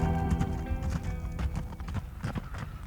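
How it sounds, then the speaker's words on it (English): Hoofbeats from a pair of heavily loaded donkeys setting off across grassy wild ground, a steady clip-clop of several overlapping steps, fairly close and continuous, with a brief animal call mixed in. "I watch two laden donkeys moving off into the wilderness."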